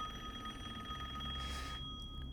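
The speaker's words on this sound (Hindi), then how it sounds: "इस घर से ही फ़ोन का रिंग का आवाज़ हो रहा है भाई" Telephone ringing inside a house in the video game Resident Evil Village, a steady electronic bell tone with sustained high-pitched trills heard clearly over a low ambient game background, with no voices.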